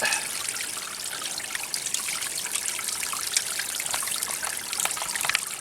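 Water runs steadily in a garden spot after moss, rocks and sediment are cleared away, a continuous close trickling and splashing with no pauses and no voices.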